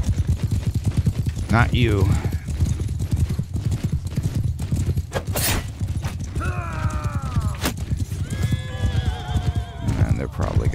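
Horses gallop with rapid, continuous clip-clop hoofbeats in the Mount & Blade II: Bannerlord battle game, with neighs and creaking gear mixed in, while players talk over the action throughout.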